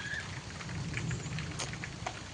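Rain falls steadily in a Konkan village, a soft continuous patter with occasional louder drops, faint and distant-sounding, no voices.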